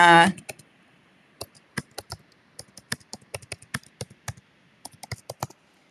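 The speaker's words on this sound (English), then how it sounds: "I'm going to type in" Keystrokes on a computer keyboard while text is entered in embroidery digitizing software, heard as close, irregular bursts of sharp clicks after a brief loud sound at the start.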